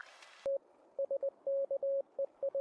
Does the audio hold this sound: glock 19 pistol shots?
no